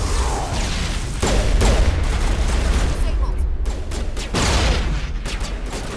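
Gunfire and grenade blasts in a Mass Effect Legendary Edition firefight, a dense, continuous barrage of loud shots with heavy booms, close and unbroken throughout.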